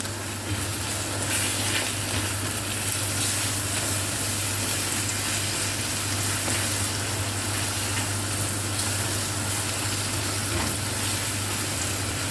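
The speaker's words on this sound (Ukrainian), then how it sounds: "І зараз ми гарненько це все ось перемішаємо" Lazy cabbage roll mixture with added sugar frying and being stirred in a pan gives a steady, dense sizzle that holds for the whole stretch, close and even, with a low constant hum beneath.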